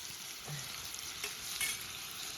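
Potatoes fry with local chicken in a pan, a faint continuous sizzle with a few light scrapes of stirring and no voices.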